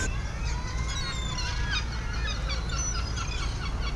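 Hungry seagulls call over and over at a fishing port in Setúbal, their overlapping cries steady and fairly close above a constant low rumble of harbour noise.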